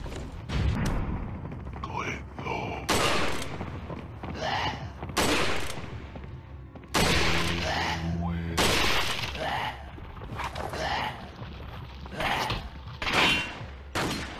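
Gunshots in the VR game Resident Evil 4, several sharp loud cracks spaced a few seconds apart, each with a bright shattering tail, heard alongside speech.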